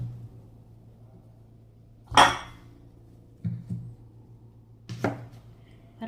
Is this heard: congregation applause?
no